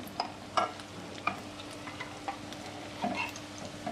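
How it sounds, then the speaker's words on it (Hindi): Bread potato rolls frying in oil, a low continuous sizzle broken by several soft clicks and bumps as the rolls are turned, close and fairly quiet. "ये देखिए हमारे फ्राई हो रहे हैं"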